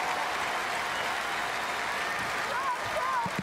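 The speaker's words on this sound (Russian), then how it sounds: "Он заслуживает таких аплодисментов." A concert audience applauds with dense, steady clapping that fills the whole stretch, a broad wash of hands from a large crowd.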